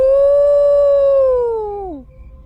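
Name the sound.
voice imitating jackals howling at night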